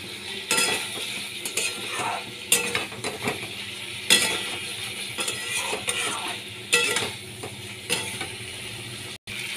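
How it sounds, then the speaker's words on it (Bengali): Bhola fish is stir-fried in a mustard, green chilli and ginger-cumin masala, giving a steady sizzle broken by repeated scraping and clattering strokes of a spatula in the pan. "মাছগুলোকে দিয়ে আমি আরও কিছুক্ষণ কষিয়ে নেব।"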